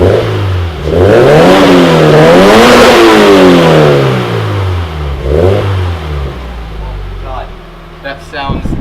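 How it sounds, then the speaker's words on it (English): A Scion FR-S with an ARK Design catback twin exhaust revs up and back down twice, giving a deep, loud, rising-and-falling engine roar nearby, followed by quieter idle and brief voices at the end. "It sounds so much deeper and like so much more powerful than the stock exhaust."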